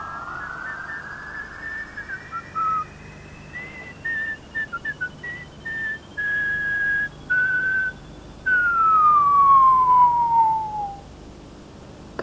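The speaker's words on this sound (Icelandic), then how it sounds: "Á meðan hann blístraði" A cartoon cat whistles a tune in a circus scene, a clear sliding melody in short phrases and one long falling glide near the end, fairly loud and alone.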